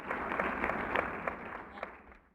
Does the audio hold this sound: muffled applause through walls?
yes